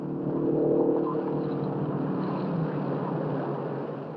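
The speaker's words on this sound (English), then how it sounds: "Here comes Bryan down the straightaway for the checkered flag." A race car roars down the straightaway at the 1958 Indianapolis 500, a steady loud engine drone that swells early and holds, with no voices.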